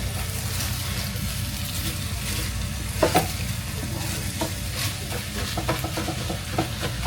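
Chorizo, potatoes and eggs sizzle steadily in a pan while a utensil stirs and scrapes them, with a few sharp clacks and scrapes against the pan over the constant frying crackle, close up.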